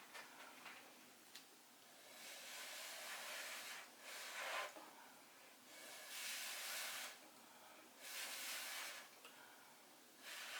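Hair dryer blowing across wet blue paint in a one-color Dutch pour, a steady airy hiss that swells and fades in repeated bursts of a second or two, fairly close and moderately loud.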